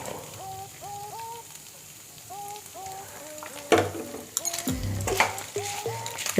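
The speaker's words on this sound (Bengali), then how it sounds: "একটু নাড়াচাড়া করে নিচ্ছি।" A spoon scrapes and clinks through shahi pulao rice in a pot, with scattered metallic knocks and rustles growing busier toward the end, close by over a faint background hum and repeated chirping tones.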